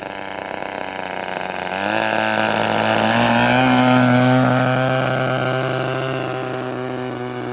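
A Turnigy TP31-T 31cc twin-cylinder gas engine on a giant 2 m Hangar 9 Ultra Stick model plane runs with a steady, buzzing, strongly tonal drone, rising in pitch and loudness after a couple of seconds, then holding close and loud.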